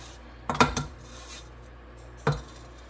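A spatula scrapes around a mixing bowl of pound cake batter for a bourbon pecan cake, two short scraping strokes close by against a quiet kitchen background.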